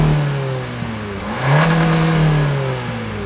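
A 2024 Hyundai Kona N Line passes close by, heard from outside, its engine and exhaust rising in a steady droning rev and then holding, loud and continuous with no other sound.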